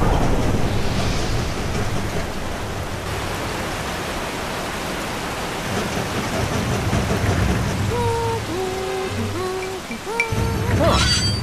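Steady rain pours with a dense hiss throughout, joined near the end by a few short rising tonal squeaks over the downpour.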